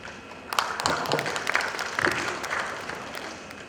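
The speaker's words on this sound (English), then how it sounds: "Give big applause for him." An audience at a radiographers' conference in Bali applauds a speaker, with dense, close clapping that rises sharply, holds strong and slowly tapers.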